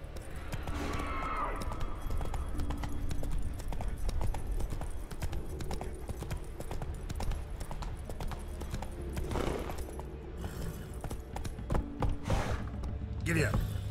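Hooves of Roach, the horse in the video game The Witcher 3 in Skellige, clip-clopping in a steady rhythmic gait over several seconds, moderately close, with occasional mechanical clatter and a faint voice.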